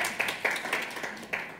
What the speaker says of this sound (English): I know a clap of six people in a room is unusual